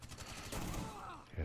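Gunfire in Rainbow Six Siege, a short loud burst of rapid shots with a heavy low thump at the end. It is close and harsh and fills the whole moment.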